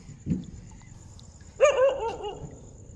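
A dog barks by a creek during a fishing outing: one loud, close bark with a short trailing yelp after a quiet stretch, preceded by a soft dull thump.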